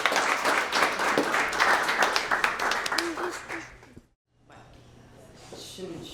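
Audience applause after musicians' commentary at a traditional music performance, dense clapping for about four seconds that cuts off abruptly, followed by quiet room sound and faint talk.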